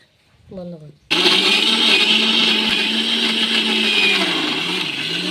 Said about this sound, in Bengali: এই মিক্সার জারের মধ্যে ভরে দিচ্ছি